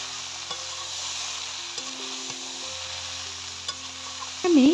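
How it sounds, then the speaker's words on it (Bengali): Parboiled, drained jackfruit frying with ground chilli and spices in a pan, a soft continuous sizzle with occasional stirring knocks and a brief louder clatter near the end. "এঁচোড়টা ভাজতে খুব সুবিধা হচ্ছে মশলার সঙ্গে"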